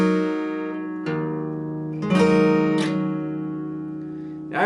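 Guitar playing a song intro slowly, a series of picked chords and slides, each new strum landing about once a second over the ringing of the last, clear and close with no talking.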